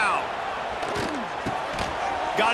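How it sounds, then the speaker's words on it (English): A roaring stadium crowd at a college football game in a video game, Arizona at Texas Tech, swells steadily on third down, a dense wash of cheering under a commentator's voice. "Guns up, and so is the noise. The crowd electric"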